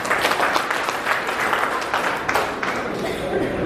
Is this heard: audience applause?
yes